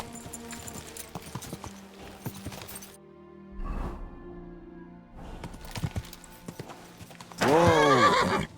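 Horse galloping in Kingdom Come Deliverance 2, with rhythmic clip-clopping hooves on and off, then a loud whinnying neigh near the end.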